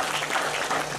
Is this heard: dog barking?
no